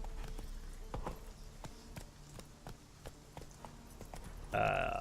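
Roach the horse's hooves clip-clop steadily in The Witcher 3 game, a regular trotting rhythm of sharp knocks at moderate distance, with a brighter tonal sound rising near the end.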